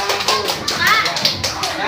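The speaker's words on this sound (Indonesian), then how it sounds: "Kasih tepuk tangan lagi temannya" Children in a classroom clapping together, an uneven patter of many small hands mixed with chatter and voices throughout, fairly close and loud.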